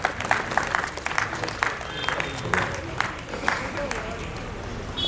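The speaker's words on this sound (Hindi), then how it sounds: "सब लोग ताली बजाएं, स्वागत।" Audience applause at an Arya Samaj annual day gathering, a steady patter of clapping held at an even level for several seconds with scattered louder claps on top, heard fairly near.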